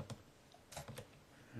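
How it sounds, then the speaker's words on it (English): Computer arrow keys held and tapped while steering a model in SketchUp, giving a few soft, quiet clicks with pauses between them and no talking. "I'm just going to hold these arrow keys"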